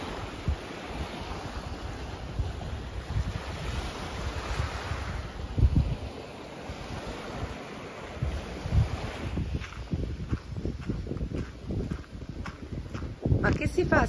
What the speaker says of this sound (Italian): il mare è un pochino mosso, oggi